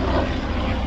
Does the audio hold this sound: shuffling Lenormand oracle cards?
no